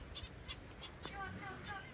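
Small finches chirp in an enclosure with quail nearby, giving a few thin, high tweets, faint and brief against a steady noisy background.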